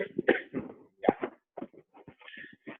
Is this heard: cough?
yes